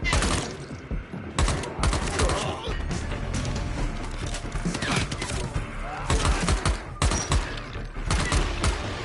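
Gunfire in the video game Dying Light The Beast bursts out in loud, dense volleys of sharp shots and impacts, nearly continuous across the stretch with brief gaps.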